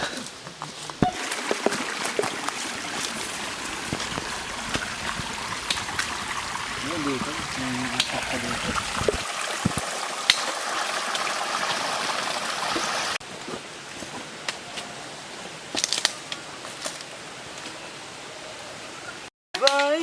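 A river current flows steadily on a mountain climb, a continuous broadband rush of moving water with scattered voices and a few handling knocks over it, ending in a brief cutout.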